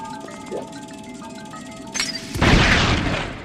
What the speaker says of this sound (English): listen to the sound effect when this bomb drops on those 4 crates over there